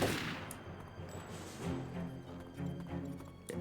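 Gunfire in the video game Turok 3: Shadow of Oblivion: a rapid burst of sharp weapon shots cracking over a booming, reverberant game soundscape, loud and close, with no talking.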